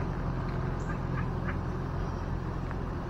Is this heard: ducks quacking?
yes